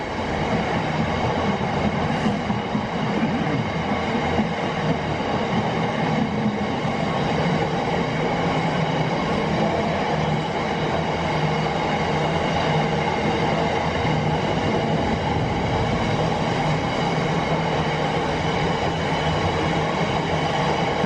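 A Gatwick Express train rumbles past at close range on the main line, a steady loud roar of wheels and rails that continues for the whole stretch with no voices.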